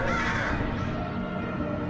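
Crows cawing steadily in a Piedmont neighborhood of northeast Portland, a dense, continuous chorus of many birds filling the air at moderate loudness with no talk.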